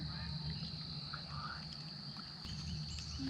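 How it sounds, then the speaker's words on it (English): Crickets chirp with a steady high-pitched drone during a daytime solar eclipse in April 2024, a continuous faint whine running through outdoor ambience with low rumble underneath. "You guys notice the crickets are making noise?"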